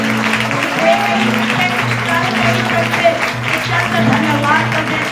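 A church congregation at a Christmas sermon claps loudly in a sustained, dense wave of applause, with a voice speaking over it throughout.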